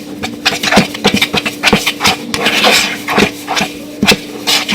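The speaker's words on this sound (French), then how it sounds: "avec une fourchette on vient mélanger jusqu'à temps qu'il n'y ait plus de grumeaux" A fork scraping and tapping around a bowl while whisking a thick, lumpy batter, giving a steady run of quick clinks and rasping strokes, close and fairly loud with no talking.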